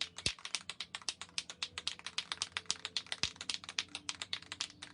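Computer keyboard keys clack in quick, irregular bursts of typing, close and moderately loud, with a few heavier thumps among the steady patter of keystrokes.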